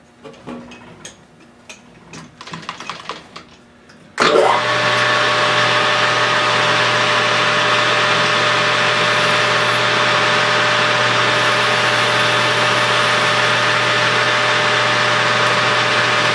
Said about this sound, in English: All I want to do is just face that off so it's straight and put a little chamfer on.